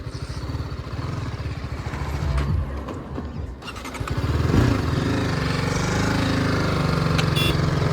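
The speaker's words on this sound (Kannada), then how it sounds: "ಪಿಕಪ್ ನೋಡು ಗಾಡಿದು, ಸಖತ್ ಪಿಕಪ್ ಇದೆ ಗುರು ಗಾಡಿದು" A sport motorcycle from a group ride of Yamaha R15 V3, R15 V4 and TVS Apache RTR 310 bikes runs loud and close, its engine note climbing as it accelerates hard after a short dip midway.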